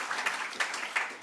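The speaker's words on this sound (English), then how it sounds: "John, I think you deserve a round of applause for that" An audience at a local history book launch for Bandon Co-op applauds John, a brief burst of clapping with a few sharper claps standing out.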